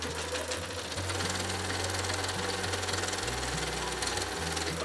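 A sewing machine stitches folded fabric for un-paper towels, a steady rapid mechanical chatter running continuously and close up, with no talking.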